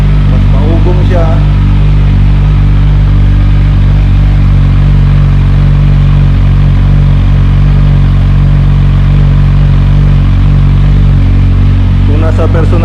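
A Kawasaki Z1000R motorcycle engine runs with its muffler removed, a very loud, raw, continuous rumble and roar at close range filling an indoor room, with talk over it.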